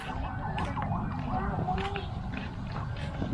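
Police car siren on a street in Samar, Philippines: a wavering wail rises and falls in repeated sweeps under general traffic rumble, moderately distant, with voices of people in a vehicle.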